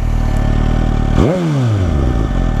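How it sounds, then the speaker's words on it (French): A 2019 Suzuki Katana 150 hp motorcycle with an 1100 cc engine and aftermarket exhaust idles loudly up close, then gets a single sharp rev that rises quickly and falls away. "Alors le pot, qu'est-ce qu'il donne le pot là-dessus?"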